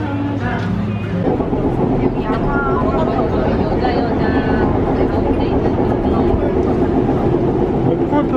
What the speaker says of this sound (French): Un peu le métro.